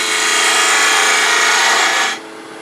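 A wood-turning gouge cuts into a multi-axis wooden bird spinning on a lathe, giving a loud, steady broadband scraping hiss for about two seconds before it suddenly drops off to a quieter hum.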